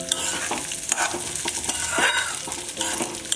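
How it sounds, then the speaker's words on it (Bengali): Fragrant Gobindobhog rice frying in ghee and stirred in a pan for pulao: a close, continuous sizzle with steady scraping and stirring strokes. "এইবার এটাকে খুব সুন্দর করে ঘিয়ের মধ্যে ভালো করে ভেজে নিতে হবে।"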